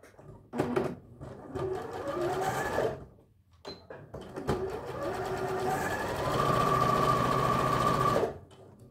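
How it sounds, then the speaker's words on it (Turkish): A sewing machine stitches polar fleece trousers nearby, running in two loud sustained bursts with a brief pause between, its rapid mechanical hum and clatter steady throughout. "şimdi dikime geçiyoruz"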